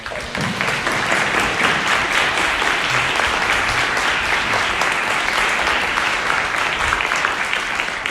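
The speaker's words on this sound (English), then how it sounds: "have another round of applause for that great film" Audience at a film screening Q&A applauds steadily after the film, dense continuous clapping filling the room with faint voices underneath.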